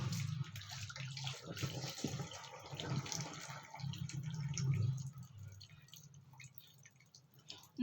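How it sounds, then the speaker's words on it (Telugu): Cooking water is strained off boiled vermicelli (semiya) after the stove is turned off, a steady close splashing and trickling that eases off toward the end, with a faint voice in the background. "వాటర్ అంతా స్టెయిన్ చేసేయండి ఇలాగా."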